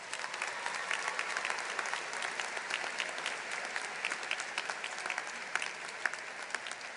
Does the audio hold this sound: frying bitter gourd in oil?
no